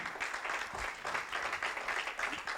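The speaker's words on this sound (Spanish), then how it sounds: "demos un aplauso al Señor" A church congregation applauds during a Sunday service, fairly soft but steady clapping with a busy, even texture throughout.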